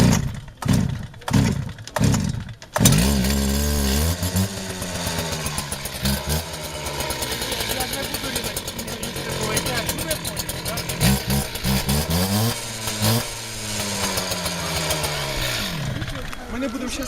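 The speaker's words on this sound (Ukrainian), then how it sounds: "він просто такий от, здоровий бензоріз, і він по металу і по бетону" A petrol cut-off saw's engine runs loudly and continuously, revving up and down several times, with a voice talking over it.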